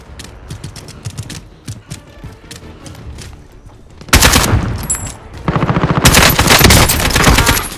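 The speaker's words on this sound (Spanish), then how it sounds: "¡No dejan de disparar!" Gunfire from the Call of Duty Modern Warfare video game: scattered shots at first, then loud sustained automatic bursts rattling close up with mechanical clatter.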